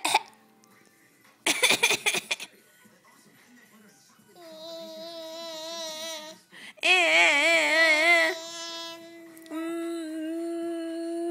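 A pet bird coughs on request, giving short harsh bursts early on followed by whistled, warbling mimicry tones that rise and hold; a person talks softly nearby.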